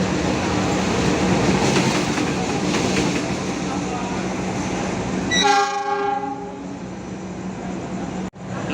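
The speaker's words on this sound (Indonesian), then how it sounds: "ini masuk lokomotif pengganti KA Sangkuriang" A replacement diesel locomotive for the KA Sangkuriang train rolls into Surabaya Gubeng with a steady rumble, then sounds a loud horn blast that fades into quiet.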